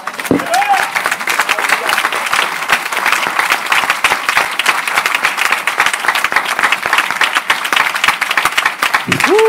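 A church congregation applauds during a French sermon, with dense, sustained clapping close by, continuous for the whole stretch and bracketed by brief vocal exclamations.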